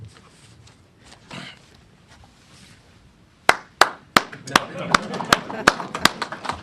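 A few people at a press event start clapping after a quiet stretch as a speaker is invited to the podium, sparse sharp claps that build into a small, uneven round of applause.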